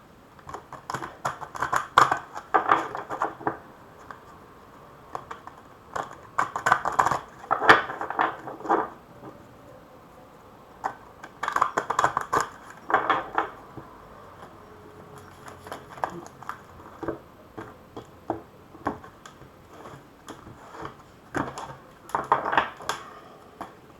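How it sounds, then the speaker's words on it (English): A deck of Soul Lessons oracle cards is shuffled by hand in several separate bursts of quick papery riffling and tapping, close and fairly soft, with short pauses between each round. "We'll give them a shuffle and see what pops out, shall we?"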